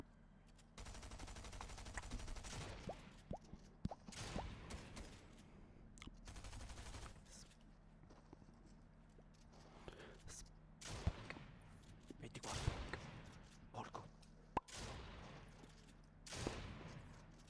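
Fortnite gunfire crackles in rapid bursts and single sharp shots, with a dense volley early and scattered reports later, mixed with game effects and quiet talk from a player.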